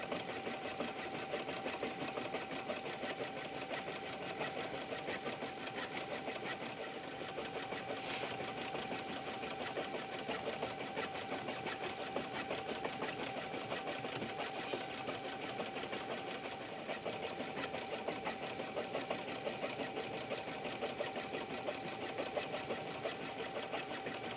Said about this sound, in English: So we'll stitch out the whole embroidery design